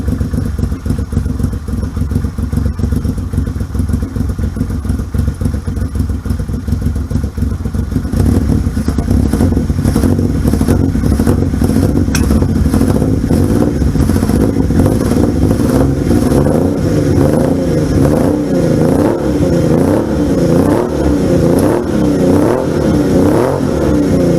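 A loud old Yamaha XS750 motorcycle engine runs steadily and close after a kick-start, its throaty chugging growing fuller and rougher partway through, with no voices.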